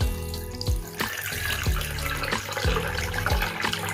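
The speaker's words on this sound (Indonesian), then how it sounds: "Teman-teman tinggal rendam saja tahu ini." Tap water pours steadily into a basin for soaking washed tofu, a continuous close splashing flow with a few sharper splashes and clunks, no voices.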